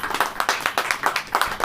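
A church congregation claps in a quick, even rhythm, about ten distinct sharp claps close together at a moderate level, with no talking over them.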